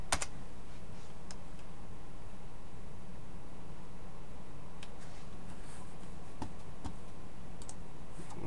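A computer keyboard is typed on as a terminal install command is entered on Ubuntu Linux, with sparse, irregular soft clicks over steady background hiss.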